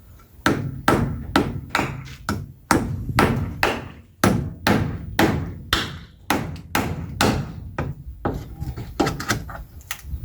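Nails being driven with a hammer by hand, a steady run of sharp, close, loud blows in quick groups with short pauses between them, heard alone without talk.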